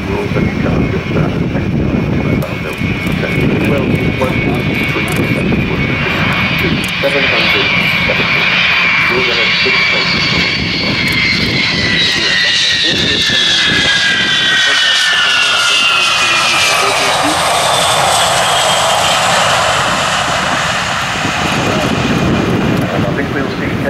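Avro Vulcan XH558 delta-wing jet bomber flying past with its nose held high at the RIAT 2012 air show, a loud, continuous jet roar with a sliding, rising-then-falling whine that fills the whole pass while voices talk.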